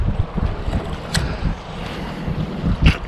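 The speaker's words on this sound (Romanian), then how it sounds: "Băi, dar ce bate vântul ăsta, ne rupe." Strong wind gusting by the Siret river during a fishing outing, a loud steady roar with buffeting microphone rumble and occasional sharper gusts, no voices.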